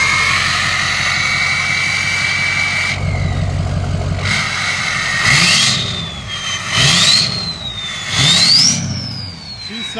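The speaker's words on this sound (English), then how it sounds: "2005 Ford F-250 Lariat turbo diesel, and this sucker sounds mean." A studded 2005 Ford F-250 Lariat 4x4 with a 6.0L Powerstroke turbo diesel, EGR delete, head studs and oil cooler, revs up in three loud close blips, turbo whistle rising and falling between them over the idle.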